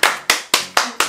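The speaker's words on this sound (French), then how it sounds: "applaudissons" Five sharp, evenly spaced hand claps ring out close and loud in a steady rhythm, each with a short decay.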